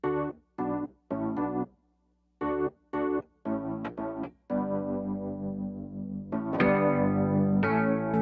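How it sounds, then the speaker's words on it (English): Wurlitzer electric piano chords are layered into an 80s pop and disco track, starting as short staccato stabs and then opening into sustained, ringing chords that swell fuller toward the end. "We just have a Wurlitzer right here."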